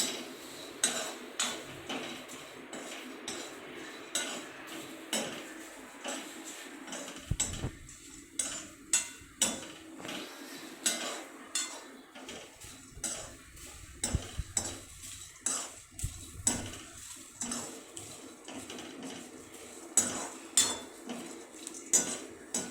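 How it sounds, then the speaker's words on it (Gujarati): Dry scraping and metal clinks of a spatula dry-roasting grated coconut in a pan, steady and close, with no talking. "કોપરાને બહુ વાર શેકવાનું નથી, ખાલી 2 જ મિનિટ આપણે થવા દઈશું"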